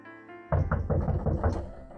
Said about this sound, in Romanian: din nou bate la ușă